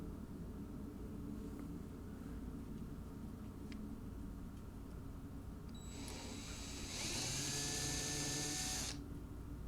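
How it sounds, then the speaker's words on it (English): A brad point bit drills out bridge pinholes in the bridge of an old Gibson LG-0 acoustic guitar, a steady high whine of about three seconds rising near the end over a low room hum. "First I run the 3/16 brad point bit to make sure I'm centered, and then I punch through with these 3 other smaller bits."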